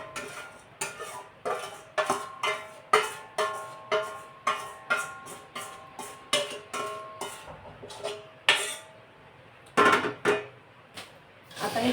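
A spoon scrapes and clinks against a pan as roasted poha chivda is tossed with a freshly poured tempering for Diwali. The taps are steady and close, falling roughly every half second with a few louder knocks.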